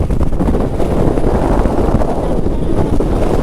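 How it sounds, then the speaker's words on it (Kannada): Strong monsoon wind buffets the microphone in a steady, loud, broadband roar with no pauses, out in the open in rainy Chikmagalur. "ಗಾಳಿ ಜಾಸ್ತಿ ಆಯಿತು, ಗಾಳಿ ಜಾಸ್ತಿ ಆಯಿತು"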